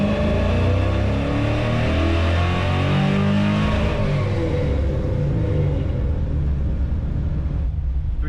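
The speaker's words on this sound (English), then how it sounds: "So we'll rev this next run a little bit higher." A Ford F100 engine with Holley EFI, naturally aspirated, revs hard on a chassis dyno, a loud steady rumble climbing in pitch as it accelerates, then holding high before easing slightly near the end; no voices.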